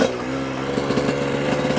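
Kawasaki KX 125 two-stroke dirt bike engine while riding, a loud buzzing drone with a rapid pulsing rhythm as the throttle opens, close up with no talking.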